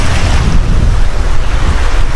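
Loud, continuous rush of sea waves and surf at the Kalanggaman Island sandbar, heavily mixed with wind blasting the microphone, close and unbroken throughout.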